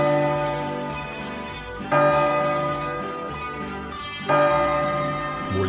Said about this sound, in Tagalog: Mula sa kampana, maririnig ang mahiwagang tunog na umaabot sa buong bayan.